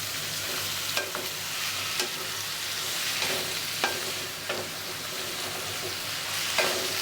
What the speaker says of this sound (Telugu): ఇప్పుడు నేను టమాటీలు వేసుకున్నాను కాబట్టి ఒకసారి బాగా కలుపుతున్నాను అన్నమాట.